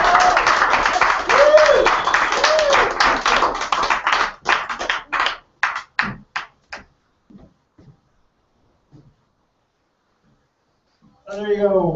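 Applause from an audience at a live open mic poetry reading, dense clapping that thins out into scattered claps and fades to silence, followed by someone speaking at the end.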